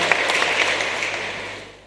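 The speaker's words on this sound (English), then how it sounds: "We'd appreciate giving him a big clap." Audience applause rises for a guest asked to stand at a memorial tribute, a short burst of clapping that tapers off over under two seconds.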